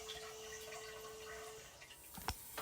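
A smart bidet runs its auto-clean cycle: a steady hum with a tonal whine fades into a faint water spray and a few sharp splashes near the end.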